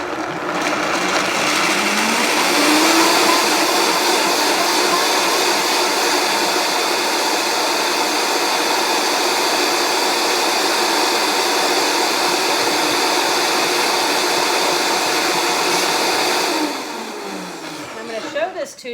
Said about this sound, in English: So we are going to turn the blender on.